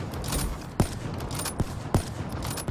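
Gunfire in the video game Black Ops 3 during a one-versus-one match: steady crackling fire with several sharp, punchy shots spaced roughly every half second, close and loud.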